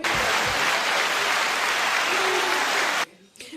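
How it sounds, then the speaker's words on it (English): Loud, continuous applause from a crowd claps steadily for about three seconds, then cuts off abruptly into quiet room noise. "We gonna keep clapping until y'all shut the fuck up."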